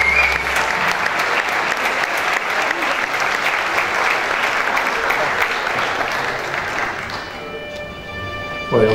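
Audience applause at a school awards ceremony, sustained dense clapping at steady volume for about seven seconds before it thins out and fades, with a brief sound at the very end.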